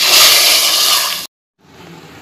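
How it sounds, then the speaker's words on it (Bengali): Fried bay leaf and garlic tempering poured into hot red lentil dal gives a loud, bright hiss and sizzle, then a brief silence, then a softer lingering bubbling sizzle. "চুলাটা বন্ধ করে ফুরানোর জন্য ডালের মধ্যে ঢেলে দিব"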